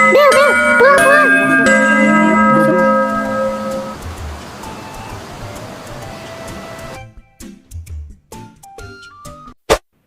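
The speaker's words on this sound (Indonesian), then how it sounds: "Wah, Bel, pulang." A chiming school bell in the Sakura School Simulator game rings a melodic sequence of bright tones for several seconds, then fades into a quieter stretch with a few clicks and a sharp final tap.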